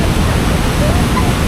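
Busowoko Falls near Jinja, Uganda, below a dam, roars as a dense, continuous rush of white water, loud and close, filling the whole moment without a break.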